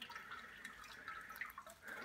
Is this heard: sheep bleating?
no